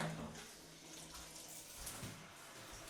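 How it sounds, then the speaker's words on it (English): Water runs steadily from a shower in a London flat, a faint, even hiss with no talk over it. "let me go shower."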